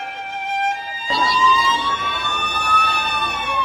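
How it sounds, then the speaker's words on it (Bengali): Ambulance sirens wail continuously at the scene of a plane crash in Bangladesh, pitch rising slowly, loud, close by and dominating, with traffic rumble underneath. "অসংখ্য অ্যাম্বুলেন্সের আর্তনাদে প্রকম্পিত পুরো এলাকা"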